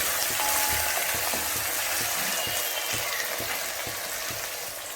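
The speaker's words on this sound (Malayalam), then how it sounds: "ഇരുന്നൂറ് ഗ്രാം ചെറിയ ഉള്ളി നീളത്തിൽ അരിഞ്ഞതാണ്, അതിട്ട് കൊടുക്കുന്നു. നന്നായി ഇളക്കി കൊടുക്കുന്നു." Two hundred grams of small shallots, sliced lengthwise, fry in hot oil for a duck curry, giving a steady close sizzle broken by regular scraping strokes of a spoon stirring through the pan.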